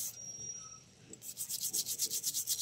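A brush scrubs a conch-shell bangle coated in Colgate toothpaste. A short pause gives way to quick, rhythmic back-and-forth strokes, close and fairly soft, about a dozen in a row.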